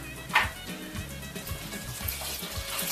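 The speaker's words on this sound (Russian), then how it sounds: "Начинаем сюда наливать водичку отфильтрованную." Filtered water pours steadily into a bowl, a continuous close splashing trickle, while a paste is mixed for a spiced coating on beef basturma.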